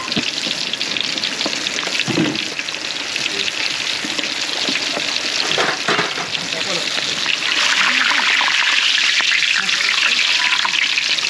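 Hot oil sizzles and crackles in a pan at a catering kitchen, loud and continuous, with clatters of utensils and brief voices mixed in.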